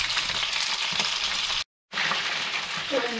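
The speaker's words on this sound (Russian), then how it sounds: "Вот такие вот я переворачиваю, вот они у меня тут поджарились." Chicken wings frying in a pan, a steady close hiss and crackle of hot oil that runs continuously apart from a brief gap, with a faint clink near the end.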